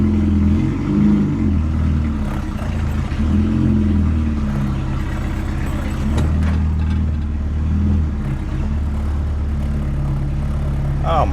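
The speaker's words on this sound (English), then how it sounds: "Oh my goodness, we're driving off the trailer." A Peugeot 304 barn-find car with its engine running steadily as it drives off a trailer, a continuous mid-pitched rumble that stays fairly loud throughout.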